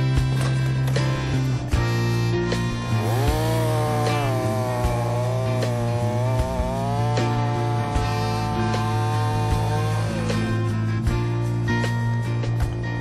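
A Husqvarna chainsaw cuts wood, a loud, close, continuous engine roar with a sustained buzzing drone and rising and falling pitch as the chain bites, with no talking.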